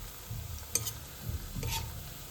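Onion pakoras frying in a pan of hot oil, a low bubbling sizzle with a few clinks and scrapes of a utensil, close and quiet with no talking.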